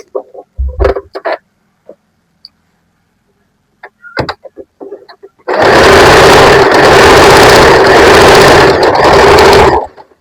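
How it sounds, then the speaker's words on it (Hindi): A sewing machine runs a long basting stitch on a peplum top, one loud, steady, close burst of fast mechanical stitching lasting about four seconds after some scattered handling taps and rustles. "चुन्नट डालने के लिए हमने यहाँ पर एक मोटी सिलाई लगा लेनी है।"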